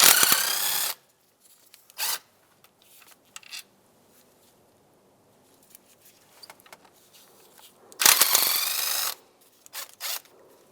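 A power tool backs out 5/16 bolts from the intake of a 2007-2015 Mazda CX-9, with two short whirring bursts at the start and near the end and brief clicks and handling noises between them.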